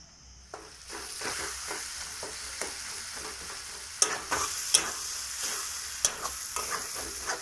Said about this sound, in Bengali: যতক্ষণ না মশলা থেকে ভালোভাবে তেল ছেড়ে দিচ্ছে ততক্ষণ এইভাবেই কষিয়ে নেব